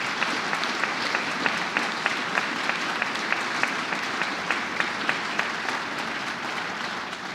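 An audience breaks into sustained applause at a state governor's announcement of a new pharmacy school, a dense, even wash of many hands clapping that holds steady throughout at moderate loudness.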